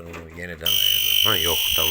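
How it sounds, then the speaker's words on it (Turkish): A shrill, steady electronic alarm tone from a building alarm system kicks in partway through and keeps sounding loudly while someone talks over it in Turkish. "bu alarm sistemi"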